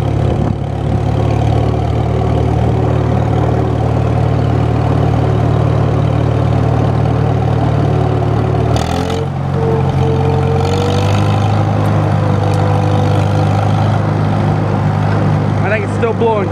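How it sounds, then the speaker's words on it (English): A Farmall Super M tractor engine idles with a steady low throb, then shifts pitch as it is revved, running loud and close while someone talks over it. "it sounds like a good old Farmall"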